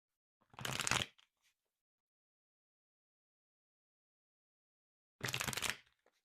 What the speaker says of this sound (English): let's pull some final cards here